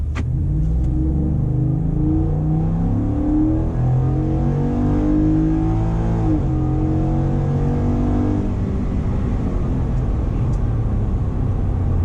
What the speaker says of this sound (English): I'll let you hear it wide open here. Stock exhaust.